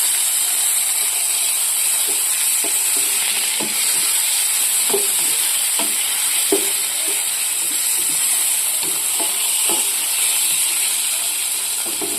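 Onion and tomato pieces fry steadily in a pan with a continuous sizzle and hiss, and scattered stirring clicks and scrapes recur throughout. No one speaks.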